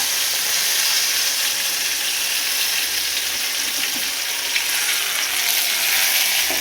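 A little oil sizzles with curry leaves for a tempering poured over a mushroom gravy, giving a continuous, fairly loud frying hiss that stays even from start to finish with no talking.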